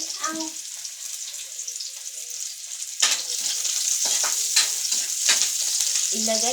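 Chicken feet frying with onions in a pan for adobo, a loud constant sizzle close by, with stirring clatters and a brief voice at the start and end.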